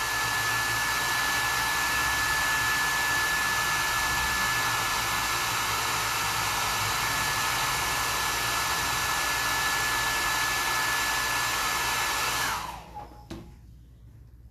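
A hair dryer runs at steady full blast, close and loud, drying a freshly painted canvas, then cuts off near the end and leaves quiet room noise with a few faint knocks.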